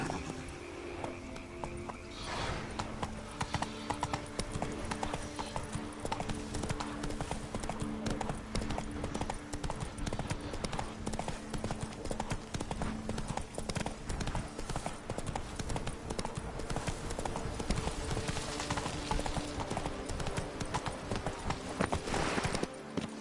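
Roach, a horse in The Witcher 3, gallops steadily with dense, rhythmic hoof clops throughout, loud and close, with an occasional snort under the game ambience.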